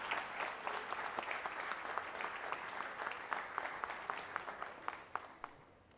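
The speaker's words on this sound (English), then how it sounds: "may I once again request for a huge big round of applause for all the" An audience at a national management convention's award presentation applauds, a moderate, fairly distant patter of clapping with a few sharper individual claps that taper off toward the end.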